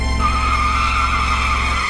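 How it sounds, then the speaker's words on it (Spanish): A car brakes hard on a residential street, its tires skidding in a sustained, loud screech that holds steadily for about two seconds with the engine rumbling underneath, no voices. "Yo hice solo un frenazo."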